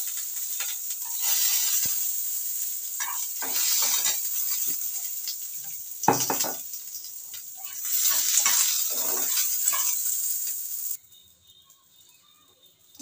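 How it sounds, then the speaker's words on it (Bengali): Green chillies frying in hot oil in a home kitchen, a steady bright sizzle with occasional stirring and spatula scrapes, close and continuous before cutting out near the end. "দেখো বন্ধুরা লঙ্কাটা ভাজা ভাজা হয়ে গেছে"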